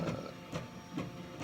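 A 3D printer prints ASA filament with the nozzle near 240 degrees and the bed at 105, its steppers making a soft, rhythmic whir that repeats about every half second at low volume.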